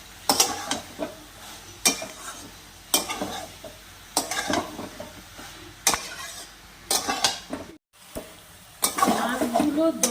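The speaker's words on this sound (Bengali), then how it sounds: "এবার মাছগুলো দিয়ে আবারও ভালো করে কষিয়ে নেব।" Tengra fish cooking in a pan of spice paste with spring onion greens, a close sizzle broken by repeated bursts of stirring and scraping, with a brief silent gap near the end.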